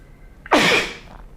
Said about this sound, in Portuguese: E quem vai aparecer agora é um espirro meu, peraí.